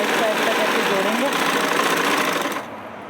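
Sewing machine stitching the panels of a salwar together with a fast, steady mechanical whir. It runs continuously and close up, then drops away near the end.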